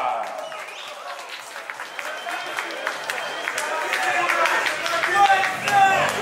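A boxing crowd in the hall applauds the heavyweight winner, steady clapping building gradually in volume, with an announcer's voice over it.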